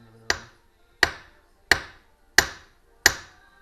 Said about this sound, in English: Don't forget to always bash your crankcase with a hammer